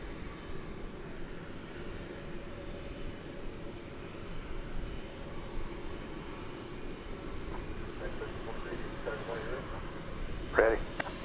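A low, steady rumble of aircraft approaching DFW Airport, distant and faint across the whole stretch, with a brief louder spot near the end.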